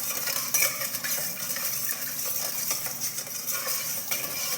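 A spoon stirs a yeast and sugar mixture in a bowl, making continuous close scraping and light clinking with no talking.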